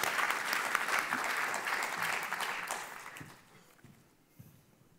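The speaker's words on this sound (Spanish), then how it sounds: "les pido un aplauso para ellos" Conference audience applauding panelists at a plenary session, dense clapping that holds steady for a few seconds, then thins out and fades to scattered claps.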